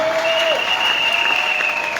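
A church congregation claps together in praise, a dense, steady wash of hands filling the whole stretch, with a sustained tone ringing above it throughout.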